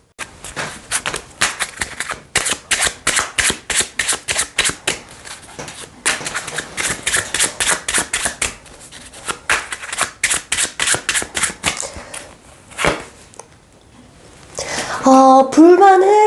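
A deck of tarot cards is riffled and shuffled up close in rapid bursts of crisp flapping clicks, with brief pauses between rounds, and a voice briefly joins near the end.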